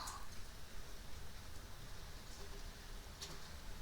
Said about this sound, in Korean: 부디 이 빗소리와 함께 편안하게 주무실 수 있으면 좋겠고요